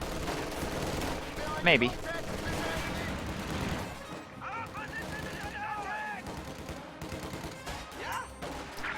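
Rifle gunfire in a video game battle as riflemen engage grenadiers in a road, with steady crackling shots and bursts running through, loudest near the start, mixed with game effects and a brief spoken word.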